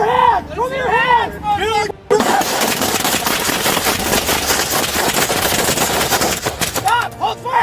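Dense, sustained burst of rapid gunfire from a shootout between deputies and an armed arson suspect on a lawnmower, loud and continuous for several seconds, with shouting voices before and after the volley.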